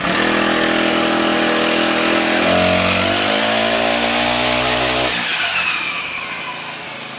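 Diesel engine of a low-cost paddy harvesting machine, running close and loud with a steady rumbling drone that shifts pitch midway, then cuts out and fades as it shuts off near the end.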